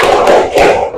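A class of children claps hands together in a rhythmic clap chant, two broad bursts of loud, close clapping filling the second.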